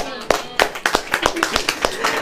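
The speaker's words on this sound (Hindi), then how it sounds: "ताली बजाओ" Congregation clapping during a Hindi church sermon, a series of sharp rhythmic claps at a quick, steady pace, with a voice audible faintly underneath.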